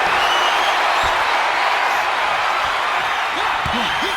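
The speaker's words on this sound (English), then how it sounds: "when you can't hear yourself think because the crowd's so loud" Loud, dense crowd roar from a wrestling arena in the WWE 2K26 video game, a constant wall of cheering with a few scattered impacts near the end, and speech running under it.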